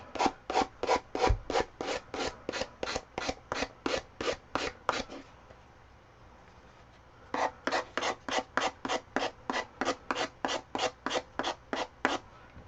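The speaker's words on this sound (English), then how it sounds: "I'm just going to sand around the edges" A sanding block rubbed along paper edges to trim off the excess, brisk back-and-forth scraping strokes in a fast even rhythm, a pause, then another run of strokes, close and alone.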